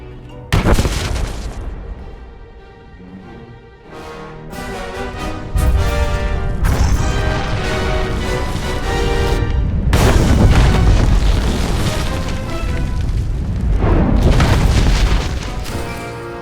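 A loud explosion in Star Wars: The Old Republic, a heavy booming blast followed by rolling crashes and rumbling debris that keep swelling over several seconds.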